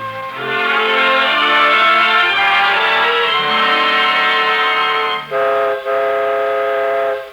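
A loud, sustained train whistle blows with rich harmonic tones in an old-time radio drama, briefly breaking near the end before resuming.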